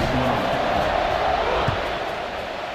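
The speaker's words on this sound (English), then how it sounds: "this crowd now ready to get behind them" Steady crowd noise from a stadium in the NCAA Football 26 video game fills the whole stretch as a kickoff approaches, a broad continuous roar with faint murmuring and no distinct individual shouts.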